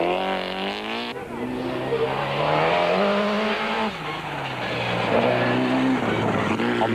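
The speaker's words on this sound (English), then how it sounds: "Satvan Singh and Richard Leake currently hold 4th position in the 4-wheel drive Toyota Celica" A four-wheel drive Toyota Celica racing in the 1993 Castrol International Rally, its engine loud and close, revving and shifting up through the gears with tire squeal, and a commentator talking over it.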